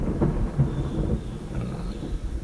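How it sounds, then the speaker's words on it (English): Thunder heard through an open window during a storm, a loud, sustained low rumble rolling on throughout with no talk. "Sorry, pause for the thunder outside my window."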